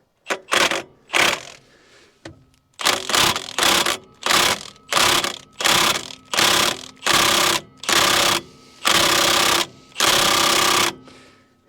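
A Milwaukee impact wrench hammers in loud, close bursts against the stuck V8 of a 1958 Chevrolet Biscayne that has sat for years. There are about eleven rattling bursts that grow longer, with short pauses between them.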